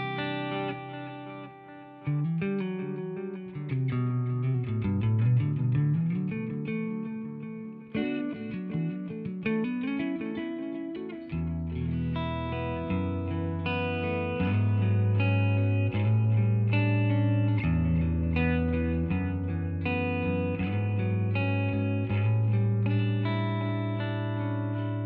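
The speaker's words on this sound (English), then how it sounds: "Okay, so this is the tape delay." An Arturia tape delay modeled on a Space Echo repeats a synth line with echoing, stereo repeats, a continuous chain of sustained tones and shifting bass notes that stays steady and clear without any talking.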